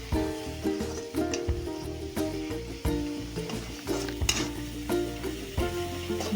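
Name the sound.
stirring and frying spices in a pan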